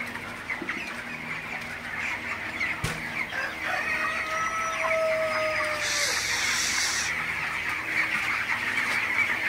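Broiler chickens, 22 days old, cluck and call continuously inside a poultry shed during intense heat, a dense flock chorus with a few higher crowing-like notes rising over a steady background din.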